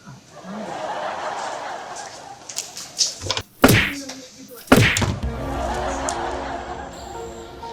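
A household door swinging open with two sharp thuds a second apart, set against a steady indoor hum in a comedy sketch, with brief voices around it.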